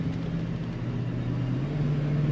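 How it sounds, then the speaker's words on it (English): A 1977 Lincoln Continental Mark V's big V8 humming steadily from inside the car, a low droning rumble with a slight rise in pitch as the automatic transmission kicks down and pulls. "And the kickdown working on that automatic transmission. Good power from the big V8."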